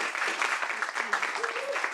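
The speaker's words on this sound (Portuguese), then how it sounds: "Uma salva de palmas para a Andréa, gente, por favor." Applause at a school good-practices event, a crowd clapping softly and unevenly for two seconds, with faint voices mixed in.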